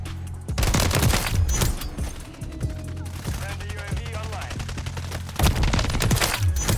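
Bursts of rifle fire from an SVA 545 in Modern Warfare 3 multiplayer, loud and close, with dense rapid volleys at the start and end and sparser shots and game noise in between.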